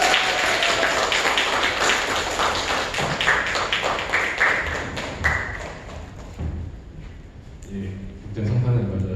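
Children clap and applaud in a church during a Christmas service, a dense patter of many small hands with thuds and taps, while a voice talks over part of it.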